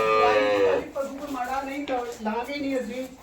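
A young, freshly calved water buffalo heifer at a Punjab cattle sale gives a drawn-out low moan that wavers and fades over a few seconds, with people talking nearby.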